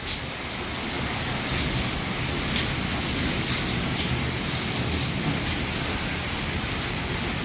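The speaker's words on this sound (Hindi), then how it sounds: "मूसलाधार बारिश और तूफान और कड़कड़ाती बिजली।" Torrential rain in a fierce storm in Kaithal pours down as a loud, unbroken roar of heavy rainfall, steady throughout with no voices over it.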